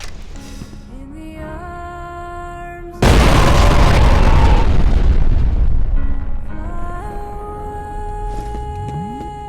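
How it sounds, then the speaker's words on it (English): A thrown grenade goes off in the shooter game F.E.A.R. with a sudden loud blast and a long rumbling roar that slowly fades, over steady game music and ambience. "I guess now's a better time than ever to showcase the newly picked up grenades."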